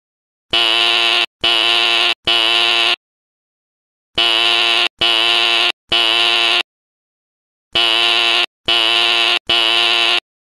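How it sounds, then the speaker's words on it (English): A school's electronic fire alarm buzzes in three groups of three loud, harsh bursts, each set separated by a short silence. "I'm going to pull the fire alarm."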